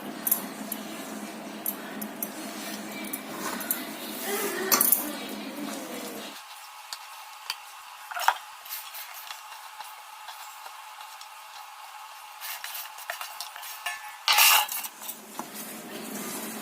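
Pieces of sun-dried mango for Andhra-style magaya pickle are stirred with oil in a bowl, giving intermittent clinks and scraping of a spoon against the bowl over a quiet background that grows briefly louder at the start and near the end.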